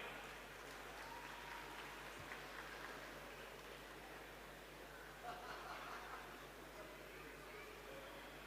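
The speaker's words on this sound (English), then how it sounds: "So a round of applause to him." Audience at a university alumni meet applauding, a faint, steady, distant patter of clapping that holds for several seconds with a few light laughs.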